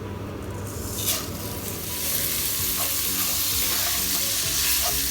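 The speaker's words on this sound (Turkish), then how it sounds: "Evet şimdi pirinçleri ekliyorum." Washed rice is tipped into toasted orzo in a hot pan and stirred, giving a loud continuous sizzle that swells as the grains hit the fat, with scraping stirs and no talk.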